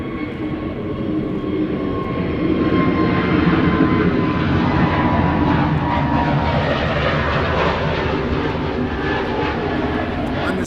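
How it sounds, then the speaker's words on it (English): A jet airliner taking off or landing at Gibraltar airport, a loud, steady roar of aircraft engines sustained at close range for about ten seconds, with no one talking. "we're definitely going to plan the trip to be able to see a plane taking off or landing right in front of us, just like this"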